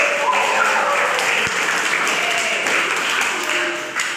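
During a teaching session, a roomful of people gives a steady patter of applause that continues throughout, fairly even and moderately loud, with a murmur of voices mixed in.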